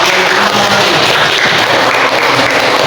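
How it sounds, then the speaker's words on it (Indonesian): A group claps together in loud, continuous applause, the dense clapping holding steady throughout without pause. "semuanya tepuk tangan untuk semua"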